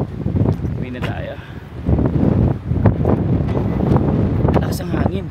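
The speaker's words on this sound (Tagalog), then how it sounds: "Lakas ang hangin." Strong wind buffets the microphone in gusty, rumbling bursts, with people talking over it.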